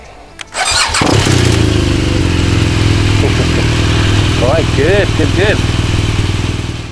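A BMW R 1200 GS Adventure motorcycle engine cranks and catches with a sharp start, then settles into a steady, loud idle that runs on, with a brief spoken remark over the low throb.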